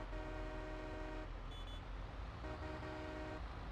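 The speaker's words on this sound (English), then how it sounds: "It's like a mini train horn." A truck horn in Farming Simulator 22 sounding like a small train horn, two sustained multi-tone blasts separated by a short gap, loud and close over a steady engine rumble.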